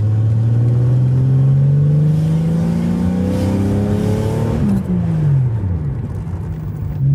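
A car nearly 30 years old, on its original engine with about 250,000 miles, accelerates hard. Its engine note climbs steadily, drops at a gear change, then climbs again, loud and close with no talk.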